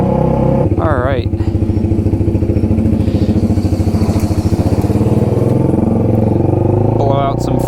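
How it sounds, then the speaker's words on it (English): Honda Rebel 300 motorcycle exhaust while riding, a loud, steady, throbbing engine drone close to the microphone with brief revs, running continuously under a rider's talk. "Blow out some freaking eardrums with this exhaust."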